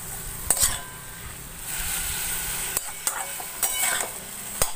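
Spices fry in a pan on a gas stove while being stirred, with a steady sizzle under repeated sharp scrapes and clinks of a spoon against the pan at an uneven pace.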